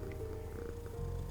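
Close, loud purring from a house cat fills the moment, a constant low rumble that swells slightly near the end, with no talking.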